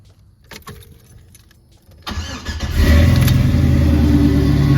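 Keys jingle in a quiet car, then an LS-swapped Chevrolet Malibu cranks briefly and fires, settling into a loud, steady, throaty idle with a slightly louder exhaust.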